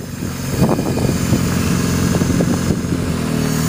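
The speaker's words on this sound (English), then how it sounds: "we are running a car on hydrogen." A car engine running on hydrogen idles roughly close by, a steady low rumble with uneven pulses and small surges in revs.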